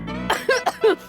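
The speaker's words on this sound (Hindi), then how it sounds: "खांसी आ गई जरा" A person gives a short series of about three or four quick, throaty coughs, close and fairly loud against a quiet indoor background, with no talk in between.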